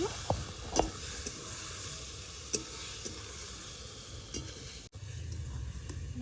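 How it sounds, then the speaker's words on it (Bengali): Tomato with a little turmeric and salt frying in a pan for a rui fish sour curry, a quiet, steady sizzle with a few sharp clicks of a spatula stirring, and no one speaking. "অল্প সামান্য হলুদ ভালো করে নেড়ে নেব"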